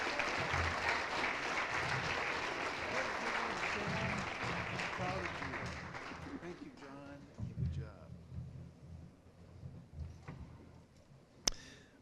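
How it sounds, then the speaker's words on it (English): A banquet audience applauds at an annual awards banquet, with dense, sustained clapping that thins out into scattered claps and room noise before a loud knock. "Let's have another round of applause for Sam Johnson."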